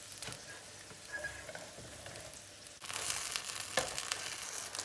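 Gözleme flatbread frying in a pan, a soft, steady sizzle with light crackle that grows louder and busier partway through, close and with no voices.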